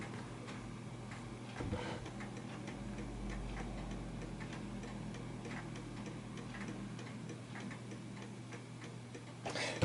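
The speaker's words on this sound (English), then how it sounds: "You can hear the clock ticking." Steady faint ticking from a fully working Art Deco chiming mantel clock, quiet, regular beats under a soft room hiss, with a slight knock near the end.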